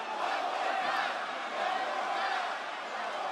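A wrestling arena crowd at a WWE Raw event cheers and roars continuously, a broad, sustained wash of massed voices heard from a distance.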